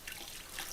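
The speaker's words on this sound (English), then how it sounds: "Just pour a little bit in there and then pour it out like that." A short trickle of liquid being poured, with light dripping and splashing, fairly quiet and alone.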